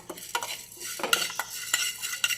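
About two spoonfuls of urad dal are dry-roasted in a pan for dosa, with a spoon scraping and stirring in quick, irregular strokes and light grain rattles, close and alone.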